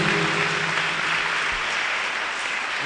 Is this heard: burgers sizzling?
no